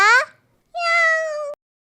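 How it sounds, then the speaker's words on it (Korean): Two clear meows close by, a short one and then a longer drawn-out one, with a brief silence between them. "야옹."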